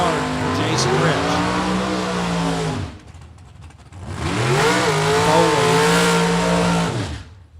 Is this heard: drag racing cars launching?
yes